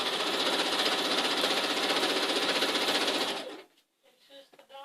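A sewing machine stitching down a plaid double pinwheel quilt block runs in one loud, steady rapid whir for about three seconds, then stops, leaving only faint handling sounds.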